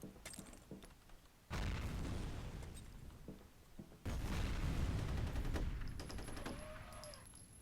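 Two heavy grenade blasts go off in the PC shooter F.E.A.R. Extraction Point, each a sudden loud boom with a long rumbling decay. Lighter gunfire crackles between them, and a ringing tone sounds at the end.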